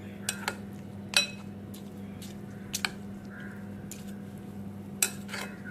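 A spoon stirring curd rice with tempering in a bowl: a few soft clinks and scrapes, quiet and close over a low steady background hum, without talk.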